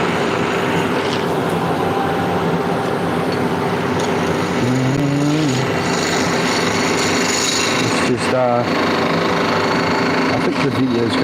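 A woodturning lathe cuts a pinecone and epoxy blank, a steady loud rasping and scraping hum with shavings flying, plus occasional squeaky tonal chatter from the tool.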